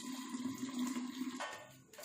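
Water poured into a steel pot for a rain experiment, a continuous close trickling pour that cuts off partway, followed by a brief splash, with no talk.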